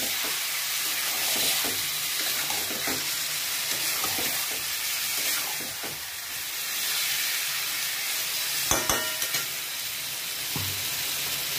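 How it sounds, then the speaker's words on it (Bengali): Onion and spices fry in oil in a wok, giving a steady close sizzle and hiss broken by scraping stirs and a few sharp utensil knocks, with no talk. "কড়াইতে তেল দিয়ে দিয়েছি। এখন আমি পেঁয়াজটা লাল লাল করে ভেজে নেব।"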